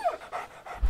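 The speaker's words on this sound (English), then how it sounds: "Oh, that's a dog." A dog panting in the video game CHKN, a few quick, close breathy pants in a brief burst.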